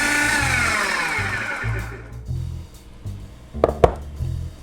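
A blender whirs loudly through a spinach and asparagus dip, its motor pitch dropping and pulsing in short bursts before winding down, followed by a couple of sharp knocks near the end.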